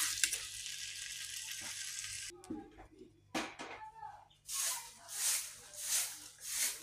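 Pumpkin curry with garam masala being stirred in a pan: a steady frying sizzle, then scraping and clinking of a utensil against the pan, and rhythmic swishing strokes toward the end.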